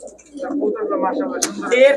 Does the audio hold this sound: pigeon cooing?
yes